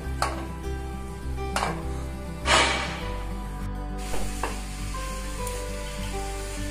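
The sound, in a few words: grated carrots frying in a pan for gajar halwa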